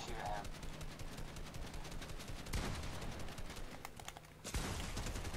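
Gunfire in a Fortnite match, with quiet, distant rapid shots and a few sharper bangs running under a faint, muffled background.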